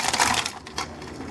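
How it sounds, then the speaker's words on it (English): Ice cubes are dumped into a Hamilton Beach blender jar over peanut butter for a protein shake, a brief clattering rush of hard cubes hitting plastic, then a second smaller clunk as they settle. "and then I dump the rest of my ice in"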